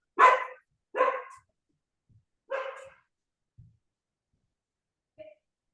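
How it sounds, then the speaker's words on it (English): A 6-month-old poodle barking indoors, three sharp close barks in quick sequence followed by a faint yip, with silence between. "I have to shut the door for my dog is barking"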